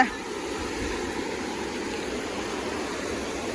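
A river in Nepal where friends have gone to bathe gives a steady, even rush of flowing water, close and continuous, with no talking.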